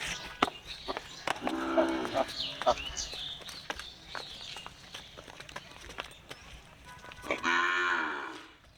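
A dairy cow at a cattle market moos loudly twice, long droning calls a few seconds apart, amid hoof clatter and footsteps, with people talking nearby.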